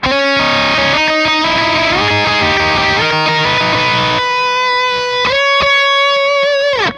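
Electric guitar lead tone through a SpecEd Nano Cortex capture: loud, distorted sustained notes stepping upward in a melodic line, then ringing high bends and held notes, with no talking.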